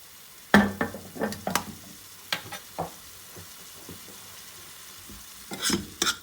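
A mixture of oyster sauce and soy sauce is stirred in a pan: a handful of sharp spatula scrapes and knocks, spaced unevenly, over a faint low sizzle with quiet gaps between.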